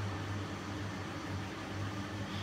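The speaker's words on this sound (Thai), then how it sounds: "แอร์ดังหืนๆอยู่" A small air conditioner hums steadily indoors with a low, even drone that holds at a constant level throughout, with no talking over it.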